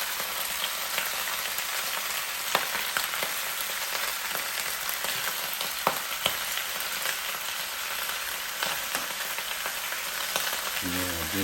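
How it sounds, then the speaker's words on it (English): Oxtails sautéing in a Power XL cooker give off a dense, even sizzle and crackle throughout, with scattered sharper pops and no talking. "As you see, they're getting a little brown, sauteed pretty good."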